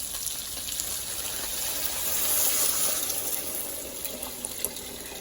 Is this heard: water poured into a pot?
yes